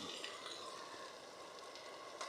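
Continuous crackling sizzle of food frying in a hot pan at a mountain campsite, steady and close, with no voices.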